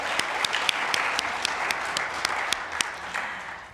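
Congregation applauding in a church to mark a parishioner's 81st birthday, a steady wash of many hands clapping with a few sharper nearby claps standing out, no talking.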